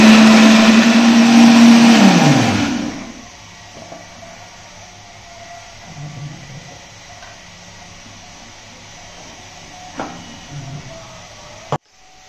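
A kitchen mixer grinder roars loudly for about two seconds while blending boiled tomato and dried chilli into paste for chutney, then winds down to quiet, with a couple of small clicks and knocks afterwards.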